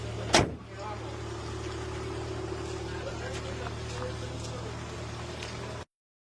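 A car engine overdue for an oil change idles with a steady, low droning hum after a brief thump at the start. It runs unchanged for several seconds, then cuts off abruptly.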